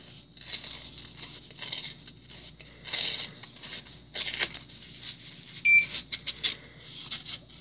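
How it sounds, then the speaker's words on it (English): Thin plastic mould peeled away from a TNT-style bath bomb, giving several short crinkling, tearing bursts at close range, with a sharp crackle near the end and no talking. "And then I peel it off."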